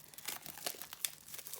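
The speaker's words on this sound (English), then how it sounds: "so you can probably hear my scissors" Scissors snipping through the double plastic wrap of a daily inspiration card deck, close crinkly bursts of plastic in a quick uneven rhythm, nothing else heard.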